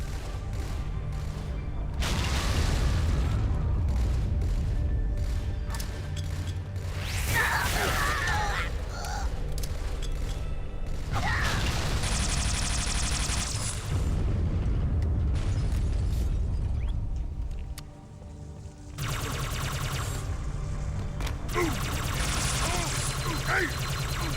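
Chain reaction of grenade blasts in Halo 2, Vista MJOLNIR edition: several loud, booming explosions burst in clusters over a constant roar of combat noise, with brief lulls between the detonations.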